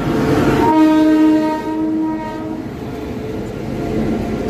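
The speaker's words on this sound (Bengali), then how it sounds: "দেখুন অন্য গাড়ি চলে যাচ্ছে" A passing train sounds a long, loud horn near the start and holds it for about two seconds over a steady rumble, which then carries on alone as the train rolls by.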